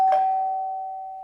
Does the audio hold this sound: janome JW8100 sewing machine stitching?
no